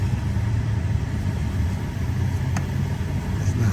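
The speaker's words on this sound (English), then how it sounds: "That's why it's idling rough, because there's a vacuum leak also." Lincoln MKS engine idling rough because of a vacuum leak, a steady low rumble heard up close with a faint hiss and slight unevenness over the hum.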